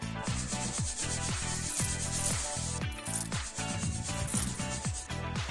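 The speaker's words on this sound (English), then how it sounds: "File the nails." Nail file rubbing back and forth across fingernails in quick repeated strokes, close and steady, with no talking.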